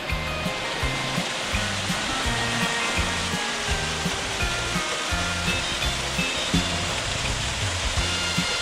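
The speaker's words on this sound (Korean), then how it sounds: "또 하나의 폭포를 만났습니다." A waterfall in the Guangdong Grand Canyon, China, pours with a steady broadband rush of falling water, continuous and fairly close, while soft rhythmic low thumps pulse beneath it.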